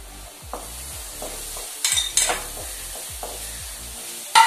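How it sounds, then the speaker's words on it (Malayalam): Masala mixture for an egg and white chickpea snack frying in a pan as curry leaves are added, a steady sizzle with repeated spoon scrapes and stirring clinks close by, no talk. "നല്ല മണം വരുന്നതുവരെ ഇത് വാട്ടിയെടുക്കുക ഇതിലേക്ക് കറിവേപ്പില ചേർക്കുന്നു"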